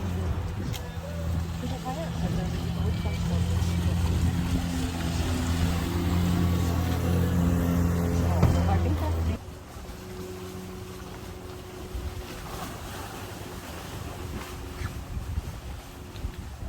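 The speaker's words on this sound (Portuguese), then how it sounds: "Vamos agora fazer o passeio de barco." Boat engine hum during a passenger boat ride in Israel, a steady low drone with wind noise that drops off abruptly around nine seconds, leaving quieter water and wind ambience.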